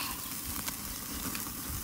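Vinegary sausages sizzling on a barbecue grill, a steady close crackle and hiss running evenly throughout with a few sharper pops and no talk.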